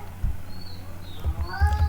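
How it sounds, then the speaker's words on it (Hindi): A house cat meows loudly a few times, with short rising and falling cries near the mic over a low steady background hum. "सॉरी मेरे बिल्ली के लिए बहुत चिल्लाती है।"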